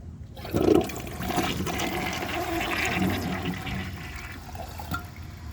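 A 2009 Gerber Avalanche toilet flushes with the handle held down, giving a rushing gush of water that settles into steady draining and swirling for several seconds.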